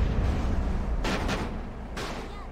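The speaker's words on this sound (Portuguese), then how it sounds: "Vamos ver a explosão." Two loud booming blasts about a second apart in GTA San Andreas, the first with a quick double burst, over a constant low rumble.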